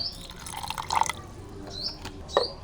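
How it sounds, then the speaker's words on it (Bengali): Rose water poured into a yogurt lassi, heard as a few close, soft drips and a brief trickle of liquid, with quiet pauses between them. "একটু গোলাপ জল দিয়ে দেবো"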